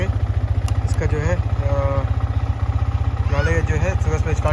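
A Yamaha MT15 motorcycle engine idles steadily after starting, a loud, even low-pitched throb running throughout, with someone talking over it.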